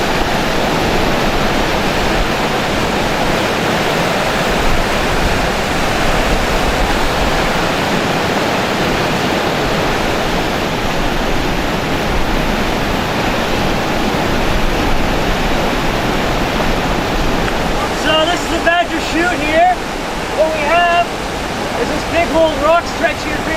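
White water rapids rush past river rocks in Newfoundland, a loud, steady, close roar of churning water that fills the whole stretch with no break.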